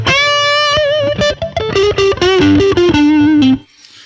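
An electric guitar played through an Azor Leon Drive distortion pedal rings out with a sustained chord, then a quick descending run of distorted single notes ending on a held note that cuts off abruptly.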